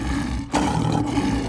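A cartoon lion from a children's animated show about a zoo gives a loud, sustained growling roar, close and continuous for the whole moment with only a brief dip partway through, heard alone without talking.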